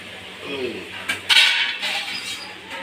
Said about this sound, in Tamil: அப்படியே மூடி போட்டு வச்சுருவோமா